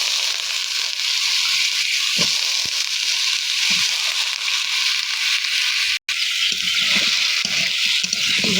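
Pieces of bottle gourd go into a pan of spices frying in oil, and a loud, steady sizzle rises with a few soft thuds and stirring knocks.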